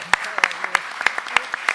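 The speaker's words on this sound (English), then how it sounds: "I think we deserve a big applause" Audience applause at the closing session of a conference, a brief burst of clapping with sharp individual claps, moderately loud and fairly close.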